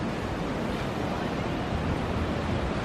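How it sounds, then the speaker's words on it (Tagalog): Strong wind blows at San Juan beach with the surf, a constant low rumbling rush and buffeting that fills the clip evenly and close, without voices. "Ang lakas pa rin ng hangin."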